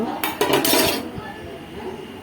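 A few quick metallic scrapes and clinks of a utensil stirring vermicelli (semiya) in water in a pot, close by, then fading into quiet background hiss.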